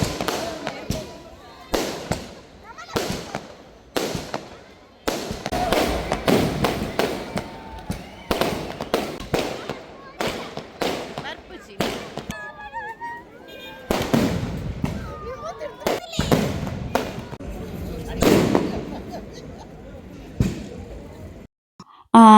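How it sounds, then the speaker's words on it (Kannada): New Year's midnight firecrackers and fireworks burst in a rapid, irregular string of sharp bangs and crackles, some close and loud, others echoing farther off, continuing in dense clusters with brief gaps between them. "ಆ 12 ಗಂಟೆ ಆದ ಕೂಡಲೇ ಪಟಾಕಿ ಹಚ್ಚೋದಕ್ಕೆ ಶುರು ಮಾಡ್ತಾರೆ."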